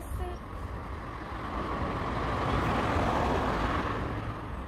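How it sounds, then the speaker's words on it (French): A car passes along a road in steady traffic noise that swells gradually toward the middle and stays loud and close throughout. "J'attends que la voiture elle passe."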